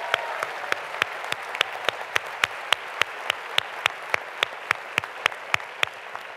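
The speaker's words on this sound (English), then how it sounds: "Let's give a round of applause to our speakers and to the students who brought them up here." Rhythmic, evenly spaced claps at a conference opening session, a steady train of sharp hand claps with a faint room wash of audience behind them, no talk.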